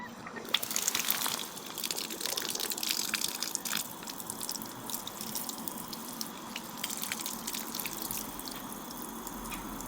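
Water runs and soaks over outdoor gear fabric during a rainstorm-style wetting test, making a steady close hiss and trickle with scattered drips and splashes throughout, no voices.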